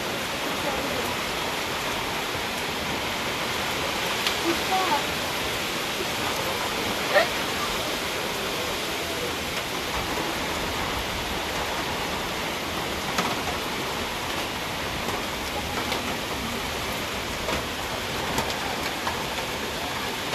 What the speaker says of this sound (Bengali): আর দেখো কেমন বৃষ্টি হচ্ছে বাইরে